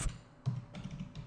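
Code is typed on a computer keyboard in a few soft, close key taps spaced unevenly over a quiet background.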